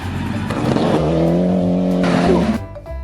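A toy rally car plays an electronic engine-revving and tire-screech effect. It sounds loud and close, rising in pitch, then cuts off abruptly near the end.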